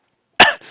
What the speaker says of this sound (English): The frail old man with like the slicked back black ponytail coughs and hobbles off